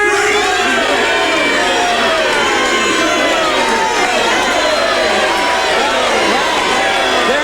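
A studio audience screams and cheers loudly and continuously, a dense wall of excited voices with shrill whoops rising throughout, close and sustained.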